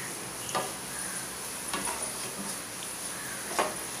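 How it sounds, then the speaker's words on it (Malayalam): Masala with pepper powder and garam masala being stirred and roasted in a pan, a faint steady sizzle with a few soft scraping strokes of the spoon, quiet and close with no talking. "ഇതൊന്ന് നല്ലപോലെ മസാല നമുക്ക് മൂത്ത് വരുന്ന പോലെ ഇളക്കി കൊടുക്കാം"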